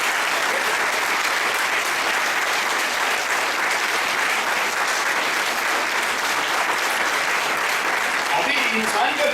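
An audience at a motivational seminar claps continuously and loudly, a thick unbroken wash of hands that holds for the whole stretch.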